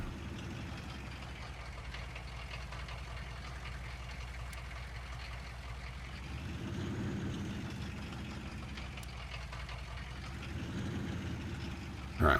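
Truck engine idling in the Farming Simulator 19 game, a steady low rumble that swells slightly around the middle and again near the end, with no talking.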